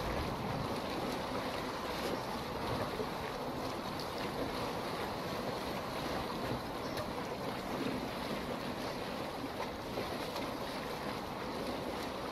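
A Viking ship sails on open sea in Assassin's Creed Valhalla, with steady wind rushing and waves washing against the hull, a constant broad wash that stays even throughout.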